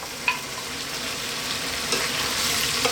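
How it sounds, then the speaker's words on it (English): Cooked pasta gets tossed through a sizzling chicken and bell pepper tomato sauce in a hot pan, a steady close frying hiss with a few light stirring clacks and no talking. "I'm going to throw this around in the sauce for like 2 minutes"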